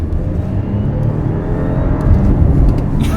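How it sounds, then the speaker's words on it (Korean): An Audi A7 55 TFSI under hard acceleration, heard from inside, its loud, steady engine drone rising slightly toward the end with a faint whine above it. "이 뭔가 윙 하는 소리는 첫 가속 때 들리는 것 같아요."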